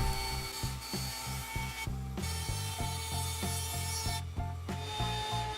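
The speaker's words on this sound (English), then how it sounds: "I marked out and cut it up on the bandsaw" A band saw cuts wood into smaller pieces, a close, steady rasping whine with rhythmic pulsing as the blade bites the workpiece, broken by two short pauses between cuts.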